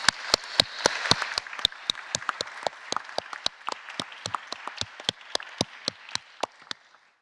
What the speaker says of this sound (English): If you'll all join me in giving them a round of applause for the excellent work that they did today